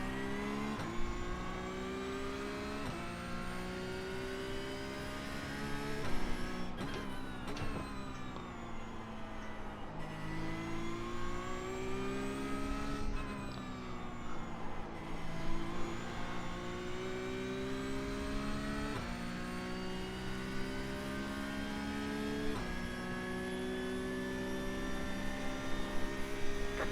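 A Porsche Cup race car's engine revs hard and steadily up through the gears on a circuit, its loud harmonic whine climbing and dropping with each shift throughout, with no talk.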